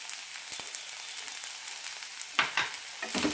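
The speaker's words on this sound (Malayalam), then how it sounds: "തേങ്ങ നന്നായി ഒന്ന് ചൂടാക്കിയെടുക്കാം" Grated coconut and carrot frying in a pan, a soft continuous sizzle with a few stirring scrapes near the end, close and quiet.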